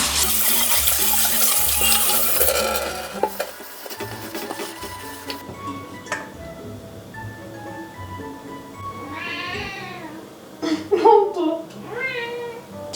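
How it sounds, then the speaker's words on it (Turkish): Water splashes and pours loudly into a cat's water bowl as it is refreshed, a dense rush at first that stops after a few seconds, followed by quieter clinks and handling sounds and a cat meowing near the end. "Suyunu da tazeleyelim."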